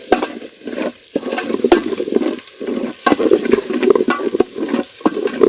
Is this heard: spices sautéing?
yes